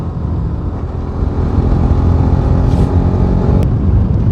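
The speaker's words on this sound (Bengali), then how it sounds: "সেই মজা বাইক চালিয়ে সেই মজা আর একটা আরামই আলাদা এই রাস্তায় বাইক চালিয়ে" A motorcycle rides along the Berhampore bypass on NH34, a loud, steady low engine and road rumble mixed with heavy wind buffeting and no talk.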